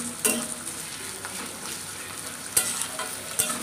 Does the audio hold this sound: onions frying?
yes